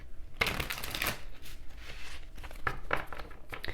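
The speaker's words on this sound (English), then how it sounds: "we're going to pull from the Gilded Tarot deck" Tarot cards from the Gilded Tarot deck riffle and slide in close, crisp bursts, with several separate shuffles and card pulls scattered across the moment and no talking.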